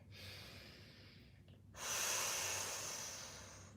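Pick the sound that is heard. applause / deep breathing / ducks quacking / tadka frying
deep breathing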